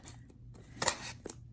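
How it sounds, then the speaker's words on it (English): Scissors snip open a bead package in a few quick, close cuts, with a sharper double snip partway through and a final short cut, all at a quiet level with no talking. "So I actually have some scissors here"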